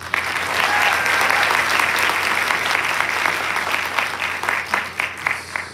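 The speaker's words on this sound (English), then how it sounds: "I will actually save that applause for our teachers and school counselors that are working late tonight." A school awards night audience applauding teachers and counselors, dense sustained clapping from a full room that thins into scattered individual claps toward the end.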